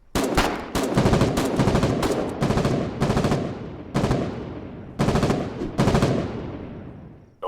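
Automatic gunfire rattles in the war game Foxhole, several loud sustained bursts with short pauses between them, close and dense, with no voices over it.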